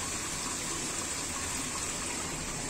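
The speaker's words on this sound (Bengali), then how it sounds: "এই যে পানি দিয়ে দিলাম মশলা ধোয়ার" Water poured into a pan used for frying chicken curry to rinse out the leftover spices, a continuous soft gushing rush of fairly constant level, without talk.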